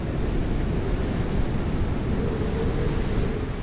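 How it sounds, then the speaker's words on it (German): Wind-driven Baltic Sea waves break in a steady, dense roar, with gusting wind noise rumbling continuously beneath the surf, loud and unbroken throughout. "wie gut die Wellen reinliefen"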